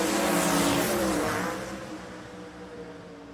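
A drag racing car at a motorplex runs badly, a loud engine roar that passes and fades after about a second and a half into a fainter, rough drone.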